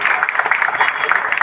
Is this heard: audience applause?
yes